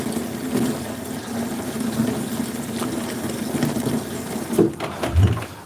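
Water runs continuously into a bucket filled for washing a Smart ForTwo car, a steady rushing gush at close range with a sloshing change near the end.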